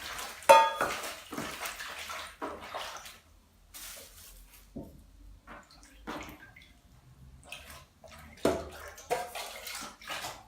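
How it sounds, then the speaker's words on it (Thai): Vegetables are rinsed by hand in water for a Thai pork sausage salad, with irregular close splashing and sloshing in a basin, occasional clinks of dishes and soft drips, and no talking. "เดี๋ยวล้างผักก่อน"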